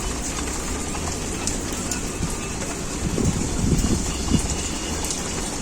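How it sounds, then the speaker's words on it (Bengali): Heavy rain pouring down outside during cooking, a steady dense hiss of falling water with a few louder patters and swells in the middle, no voices present. "আজকে প্রচুর জোরে বৃষ্টি হচ্ছে, বৃষ্টির জন্য কতটা কি শুনতে পাবেন জানি না"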